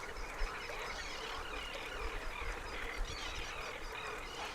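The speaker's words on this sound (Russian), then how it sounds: "На залитых водой просторах устраивают пиршество птицы." Geese and ducks honk and quack over the flooded waters of the Volga delta, a dense, distant chorus of wildfowl under steady broadband outdoor noise with no voices.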